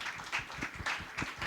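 An audience at a church Q&A session claps, with several bursts of hand claps rising and falling in a loose rhythm over a short moment.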